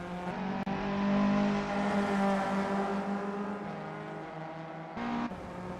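VW Up Cup race cars at full throttle on a circuit, a steady droning engine note rising and holding as cars pass close by, with a brief sharp knock partway through.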